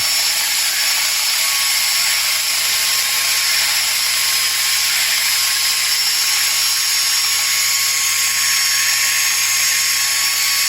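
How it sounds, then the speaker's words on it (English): A high, steady whine of a power drill spinning knife handle pins against sandpaper runs continuously throughout, with grinding friction, close and loud, without pauses. "So we're going to shave down these pins just a little bit, just put them in a drill"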